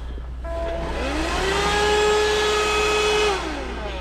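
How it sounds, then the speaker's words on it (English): A vacuum cleaner that sprays dust everywhere switches on and its motor whines up to a steady high-pitched drone, then starts winding down near the end. "Whenever I turn my vacuum cleaner on, it just sprays dust everywhere."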